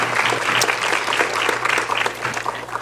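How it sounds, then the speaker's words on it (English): Audience applause for award recipients at Toronto's Access, Equity, and Human Rights Awards ceremony, a loud, dense, continuous clapping from a large crowd with a steady low hum underneath. "Can we just get another round of applause for our recipients so far?"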